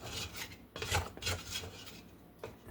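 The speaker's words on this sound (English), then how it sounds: "Then I'm going to scrape the sides of my bowl out." A scraper rubbing around the sides of a bread machine bowl, a series of short, soft rasping strokes repeated at an uneven pace, close and fairly quiet, with no talking.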